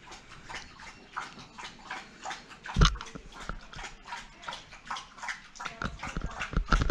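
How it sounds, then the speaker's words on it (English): A dog laps water from a bowl indoors, a quick, rhythmic series of soft wet slurps heard close up, with a brief clunk partway through. "it's just my dog drinking water"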